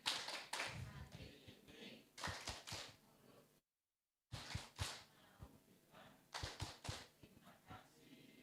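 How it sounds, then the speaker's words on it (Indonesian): A workshop audience at a national health-services training event in Semarang gives rhythmic thank-you clapping in short synchronized bursts, pausing briefly midway, then resuming in a patterned clap sequence. "kita kasih tepuk terima kasih ya. 1, 2, 3, tepuk terima kasih."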